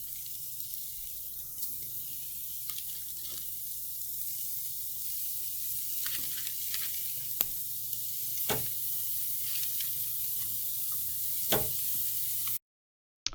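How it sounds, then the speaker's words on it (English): Burger patties sizzle on a grill in a steady, hissing crackle that stays even and moderately loud, with scattered sharp pops and spits breaking through the continuous fry. "Should hear that good sizzle when we put them down"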